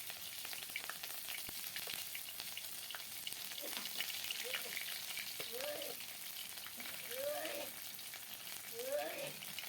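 Onion, ginger and garlic paste sizzling in hot oil in a wok, a steady broadband frying hiss with occasional crackles and soft stirring scrapes, close and continuous.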